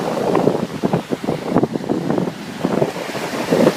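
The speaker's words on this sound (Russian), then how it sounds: "Волны разбиваются о камни." Sea waves surge and crash against rocks in irregular bursts, with steady wind buffeting the microphone throughout; no voices.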